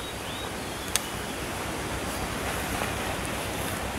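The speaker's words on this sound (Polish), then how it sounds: "Zobaczcie, taki wiatr się zerwał." Steady broadband wind rushing continuously outside a tent, with a faint gusty roar and a brief sharp tick near the start; no voices.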